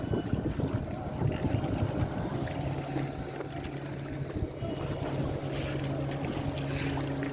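Speedboat running across the Maithon Dam reservoir, a steady droning engine hum blended with rushing water and wind buffeting the microphone throughout, with no talking.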